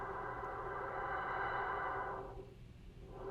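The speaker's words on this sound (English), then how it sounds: "So you hear 0 filter resonance, but maximum space." A synth bass line through a ZOIA pedalboard setup, drenched in maximum reverb space with no filter resonance, sustaining as a thick washy tone before the wet tail drops away and swells back in.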